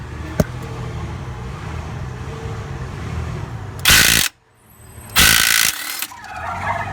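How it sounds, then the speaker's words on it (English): A Ryobi 1/2-inch drive cordless impact driver hammers loose a 27mm bolt on a 1999 Infiniti QX4 engine during a timing belt job: two loud, close bursts of rapid rattling impacts separated by a short pause. "I'm going to be using my new Ryobi 1/2-inch drive impact driver"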